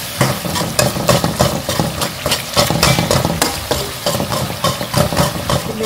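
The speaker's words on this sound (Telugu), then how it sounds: "మంచిగా కలుపుకోండి, సో టమాటోస్ ఏదైనా ఉంటే స్మాష్ అయిపోతాయి" A spoon stirring a thick tomato curry in a pan, with soft sizzling from oil that has separated out and a steady run of scraping and clattering strokes, close and fairly loud, with no talk.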